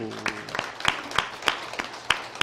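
Congregation at a Korean church service clapping in a steady, evenly spaced rhythm of sharp claps, with a brief voice at the very start.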